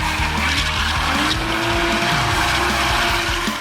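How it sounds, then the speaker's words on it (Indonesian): Tires squeal continuously as a car drifts, a loud, sustained screech over a low engine drone that holds throughout. "Biasanya bunyi ban melengking kayak gini nih."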